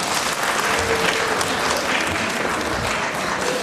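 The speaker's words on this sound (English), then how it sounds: "A round of applause to Mr." An audience at a talk on Malawian and Zambian immigrants' contributions to Zimbabwean culture applauds a speaker, a steady, even round of clapping heard alone throughout.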